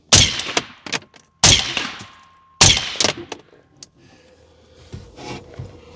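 Three loud, sharp suppressed rifle shots from an AR fitted with a Silencer Co. Spec War 556 suppressor, each followed by a short echoing tail, then quieter background rumble; no talk.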